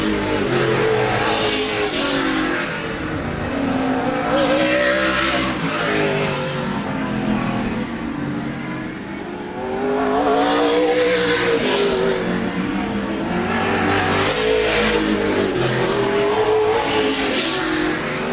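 Race cars thundering around Laird Raceway during a Thursday Night Thunder race, their engines roaring loudly and continuously, swelling and fading in long waves as the cars pass through the turns and down the straight.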